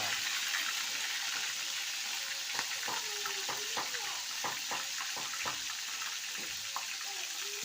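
Shrimp frying in a pan, a steady broadband sizzle and hiss running throughout with scattered pops and crackles of hot oil, close and continuous with no talking.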